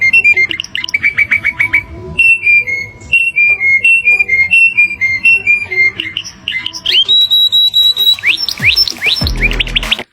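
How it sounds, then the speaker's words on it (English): Canary song, alone and fairly loud: rapid trills and rolling whistled phrases repeated in quick bursts, rising to higher sweeping notes toward the close. "Top 3, the canary bird sound."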